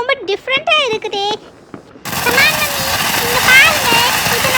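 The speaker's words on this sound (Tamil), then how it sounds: "அடுத்து நான் வந்து இந்த பம்பரை வெடிக்க போறேன்." A spinning ground-chakra firecracker (bambaram) lit at a Diwali celebration bursts into a loud, dense hiss of crackling sparks that continues without a break for over two seconds, coming in after a stretch of high-pitched voices talking.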